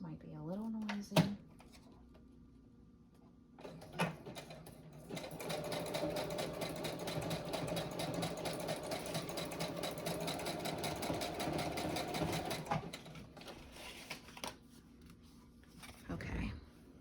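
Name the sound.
sewing machine doing a zigzag stitch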